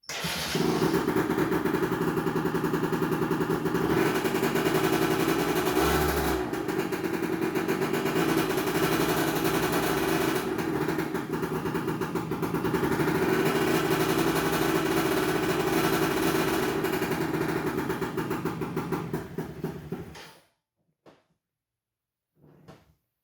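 A small engine with its air filter removed roars at steady high revs for about twenty seconds, loud and continuous with a harsh buzz, then cuts out abruptly, followed by a couple of faint knocks.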